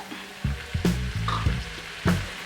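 Chopped onions and tomatoes frying in a pan, a low continuous sizzle broken by a few sharp spatula knocks and scrapes against the pan, no talking.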